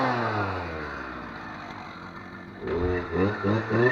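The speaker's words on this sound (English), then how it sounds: "You can listen to it rev nice and loud" A Stihl FS450 brush cutter engine runs close by, holding a steady drone before surging into louder, throaty revs near the end.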